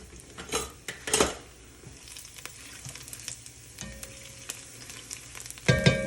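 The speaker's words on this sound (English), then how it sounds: "we got the pan hot for the kale that we're gonna make. A little bit of chopped garlic, nothing fancy, rough chop. We're gonna let that cook for a second." Rough-chopped garlic frying in a hot pan before kale goes in, giving a soft continuous sizzle with spatula scrapes and clinks against the pan, close up and without talk.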